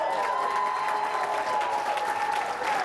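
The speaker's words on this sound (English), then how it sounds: "Give yourselves a round of applause." Audience applause at a seminar, a steady wash of clapping from a crowd under a faint sustained tone, moderately distant and continuous throughout.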